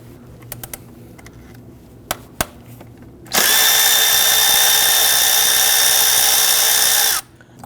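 An 8mm ignition coil bolt on a 2013-2019 Ford Police Interceptor Utility 3.7 is spun loose with a power driver, giving one loud continuous whir of about four seconds after a few faint clicks and taps.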